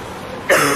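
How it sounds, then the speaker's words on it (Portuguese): After a moment of quiet, a single short, harsh cough bursts out close by. "A tosse do inverno pegou você?"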